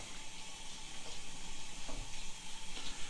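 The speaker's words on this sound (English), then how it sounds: "Now the beans are simmering over here. Let's give them a stir." Beans simmer on a stovetop with a soft, steady sizzling hiss and faint stirring, quiet and continuous with no voices.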